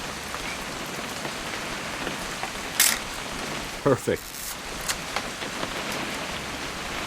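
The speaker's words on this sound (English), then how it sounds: "It's gonna rain the whole weekend," Steady rainfall from What Remains of Edith Finch, a soft continuous hiss of drops on surfaces with a few brief clicks and bumps, while a voice speaks a short word over it.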